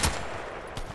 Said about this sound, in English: You see, one shot.